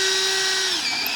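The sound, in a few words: drill boring through hard wood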